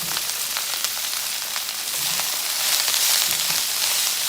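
Bagged salad greens dropped into a hot pan hiss and crackle with a loud, dense sizzle that swells slightly toward the end, close up and without talk.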